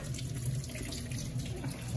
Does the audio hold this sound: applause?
no